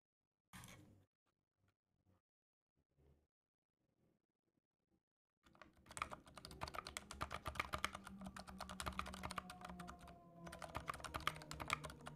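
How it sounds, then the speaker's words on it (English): Typing on a custom mechanical keyboard, heard close up: a few isolated key clicks after quiet, then a fast, dense run of crisp clacking keystrokes that continues to the end. "I'm going to put my audio right next to my keyboard so you can hear it."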